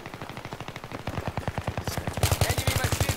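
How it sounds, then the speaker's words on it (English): Sustained machine gun fire in Battlefield 3, a loud, rapid, evenly spaced stream of shots that grows heavier and more intense toward the end. "Enemy machine gun is spotted"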